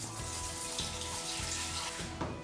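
Alcohol pours into the pot of a Hot Rod still, a steady close-up trickle and splash of liquid running continuously with faint gurgling pulses.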